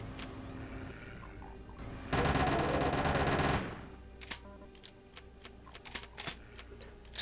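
Weapon reload in the video game Wonderful Doom, one dense mechanical burst lasting over a second, followed by scattered light clicks and clacks, close and moderately loud, with no voices.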